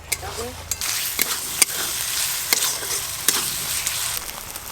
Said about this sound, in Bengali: একটু ভালো করে মশলা কষবো